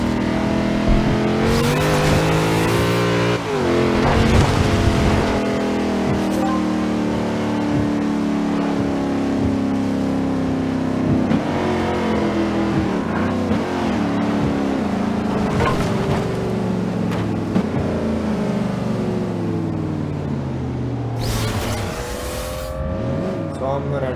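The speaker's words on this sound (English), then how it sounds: "Try to do a few burnouts here." A 2014 Corvette Stingray V8 roars through repeated loud revs during burnout attempts. Engine surges rise and fall over about twenty seconds, with bursts of tire squeal and hiss breaking through.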